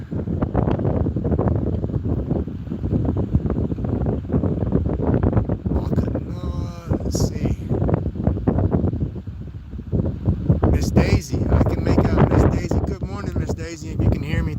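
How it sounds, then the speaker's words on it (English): Strong wind buffeting a microphone at Pensacola Beach, a loud, continuous low rumble with gusty swells that runs under a person talking throughout. "The wind."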